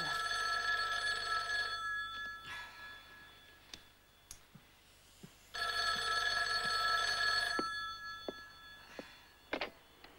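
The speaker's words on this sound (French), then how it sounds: "Le téléphone sonne." An old-style telephone bell rings in two long bursts with a pause between, clear and fairly close, followed by a few light clicks and taps, with no talking.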